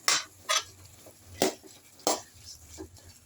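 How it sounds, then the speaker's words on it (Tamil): Tomatoes are sautéed in a pan for a tamarind curry. Four or five distinct scraping knocks of a spoon against the pan sound at uneven intervals, close and moderately loud, over a faint frying background. "நல்லா வதக்குங்க நல்லா இதெல்லாம் தக்காளி கொடுங்குற வரைக்கும் வதங்கினாங்க"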